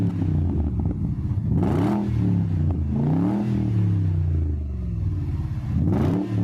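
A BMW 650i with a 4.4-litre twin-turbo V8 revs repeatedly, its deep exhaust note rising and falling in several swells, close and loud with no talk over it.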